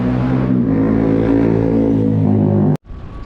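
A motor vehicle, likely a motorcycle, idles and rumbles close by on a street in Padang early in the morning, a steady engine drone that cuts off abruptly near the end, followed by quieter background noise.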